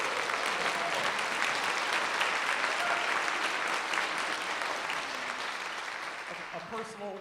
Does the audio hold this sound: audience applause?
yes